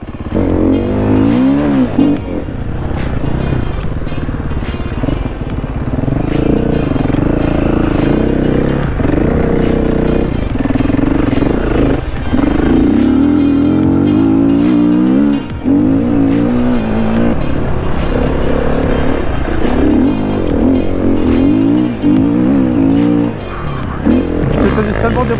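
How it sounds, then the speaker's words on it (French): A motocross bike on a sandy beach training track revs hard and continuously close by after an electric start, the engine note rising and falling with throttle, with a person talking over it at times. "Là, le démarreur électrique, c'est un bonheur."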